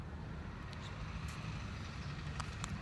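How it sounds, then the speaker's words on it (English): Passing cars on a road outside, a steady low traffic rumble that stays continuous and moderately distant, with a few brief higher swishes as vehicles go by. "there's going to be some cars going by now and again"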